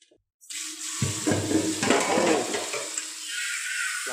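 Water gushes from a kitchen tap into a cooking pot being filled to boil for homemade cold noodles, starting abruptly and running steadily and close for several seconds.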